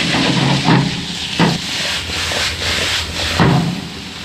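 Steady hissing sizzle of vegetables, tofu and burdock stir-frying in a pan, with a few louder bursts as they are stirred, close and continuous.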